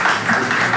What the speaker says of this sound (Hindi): इस बात के लिए भी ताली होनी चाहिए